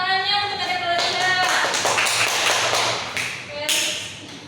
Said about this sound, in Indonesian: Kita tepuk tangannya untuk Adik Clarissa.